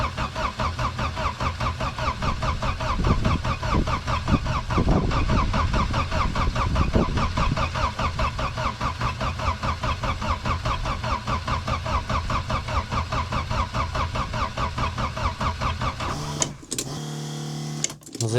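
A car engine is cranked in winter cold without starting: a steady, rapid churning of the starter runs close and loud for about sixteen seconds, then cuts off, leaving a few brief clunks.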